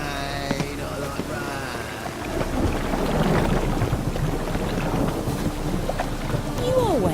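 Rain and thunder roll through a Witcher 3 game scene, a low rumbling surge building after a quieter start, with wind-like rushing and steady rain hiss underneath and some faint tonal game sounds.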